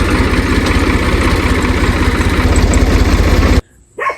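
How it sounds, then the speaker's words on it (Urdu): Tractor engine idling close by, a loud, steady low chugging throb that cuts off abruptly near the end, followed by a faint short sound. "ٹریکٹر کو لے کر آ گئے ہیں."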